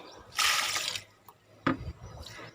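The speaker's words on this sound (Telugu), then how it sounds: "ఇప్పుడు మళ్ళీ ఈ లిక్విడ్ ఇస్తా అన్నిటికీ." Liquid is poured onto potted plants in a rooftop terrace garden. Two short, soft splashing bursts, the first longer, land close by with quiet pauses between them.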